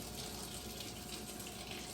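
Hot water gushes steadily from a kitchen tap, a continuous close, full splash with no breaks and no talking.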